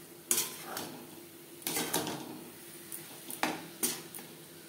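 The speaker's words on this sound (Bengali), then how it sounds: "অল্প অল্প করে জল অ্যাড করে সুজি নাড়াচাড়া করতে হবে।" Semolina stirred in a pan as water goes in a little at a time, giving intermittent scraping clatters and metal-on-pan clinks with quiet gaps between strokes.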